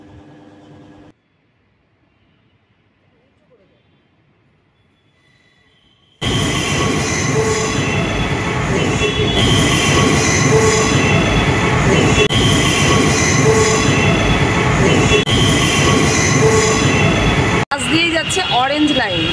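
A Kolkata Metro train runs from the Salt Lake Sector V line onto the Sealdah-bound line. After a quiet opening it breaks into a loud, close, sustained rumble of wheels on rail with squealing that lasts to the end.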